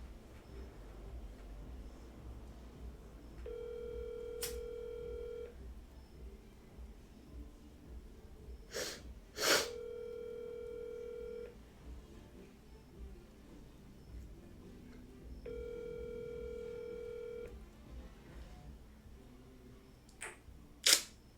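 Telephone call tones from a phone, repeated beeping tone bursts of about two seconds each with pauses between, faint against background hiss, with a couple of sharp clicks.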